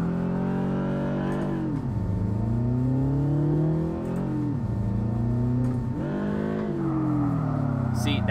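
A Subaru BRZ with a boxer engine revs and drifts in the DRIFT21 racing game, its engine note rising and falling in repeated sweeps as it shifts, steady and prominent with a voice talking over it.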